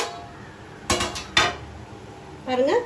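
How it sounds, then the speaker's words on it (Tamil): Two sharp metallic clanks of a lid lifted off a pot of boiling water for mutton biryani, followed by a brief scraping rattle. "இப்போ மூடி ஓப்பன் பண்ணி பார்க்கலாம்"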